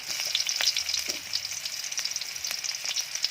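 Red onion sizzles and crackles steadily in a hot pan, with bright frying hiss and occasional stirring clicks, close and moderately quiet, no talking.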